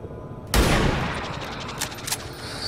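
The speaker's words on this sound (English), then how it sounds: "Take a shot at the sectoid." XCOM 2 gunfire aimed at a sectoid: a sudden loud shot burst that rings out and decays over a couple of seconds, with faint sharp impacts afterward.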